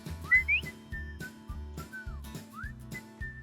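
A person whistles in a 10-acre pasture to call a horse, a series of short rising and falling whistled notes repeated in a loose rhythm over a low rumbling background.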